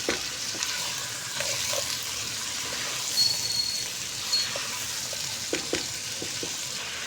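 Carrot, pea and potato sabzi with a little turmeric sizzles steadily in a pan while being stirred, a continuous close frying hiss with scattered soft scraping clicks of the spoon.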